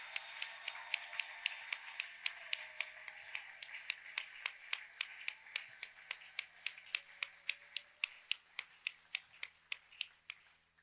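A church congregation claps in time, a long steady run of sharp, evenly spaced handclaps at moderate distance, quiet overall and with no talking.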